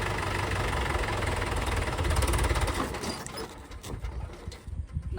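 A Rhino tractor engine runs in fourth gear with the head link set, a loud, steady rough knocking drone close by that eases slightly near the end.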